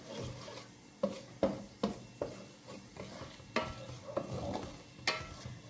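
Tripe being stirred in a pan for soup, with repeated scraping and rubbing strokes of a utensil against the pan over a light sizzle, close and fairly quiet.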